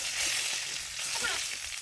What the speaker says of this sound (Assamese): ইয়াত তেল আছে, গতিকে মই ইয়াত ডিমকেইটা ফ্ৰাই কৰি ল'ম।